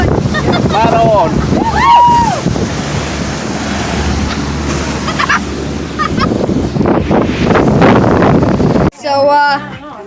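A motorboat under way at sea in Italy, with loud rushing water, wave slaps and wind buffeting, while voices talk over it; the scene cuts abruptly near the end to clearer speech.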